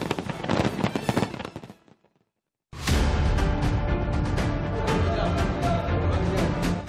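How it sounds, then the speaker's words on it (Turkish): Fireworks crackle and boom densely during a New Year's Eve display in Dubai, a loud burst of bangs that stops briefly, then resumes in a thick, continuous barrage of crackling explosions. "Dubai'de düzenlenen havai fişek gösterisi izleyenleri büyüledi."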